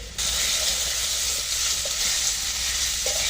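Green chilli, ginger paste, cumin paste, turmeric and chilli powder hit hot oil in a pan for a Bengali puti fish curry with potato and Malabar spinach, bursting into a loud, steady sizzle that starts abruptly and continues unbroken.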